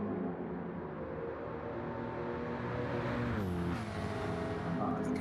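A McLaren race car runs fast in the 2024 Nürburgring 24-hour race, its engine a steady droning whine that shifts pitch midway as it pulls along the straight, with faint commentary beneath.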